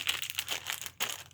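A clear plastic bag holding a replacement vehicle repair part crinkles in a short run of crisp, close crackles with a brief pause partway through.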